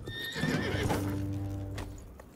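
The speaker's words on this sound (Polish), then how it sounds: "Dosiadamy konia." A horse in the video game Conqueror's Blade lets out a single loud, close neigh that rises and then trails off, with faint hoof clip-clops alongside.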